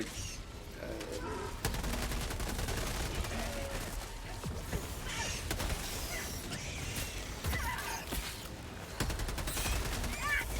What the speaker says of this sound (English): I think this rifle definitely works better